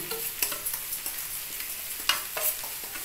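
Turmeric, sugar, chili powder and salt stirred into a cabbage dhoka mixture in a pan, quick light scraping strokes of a spoon over a faint sizzle, close and without talk.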